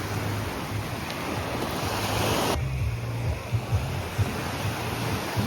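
Ocean waves washing onto a crowded beach at Playacar, Mexico, a continuous rushing surf with a swelling crest and wind buffeting the microphone, no talk over it.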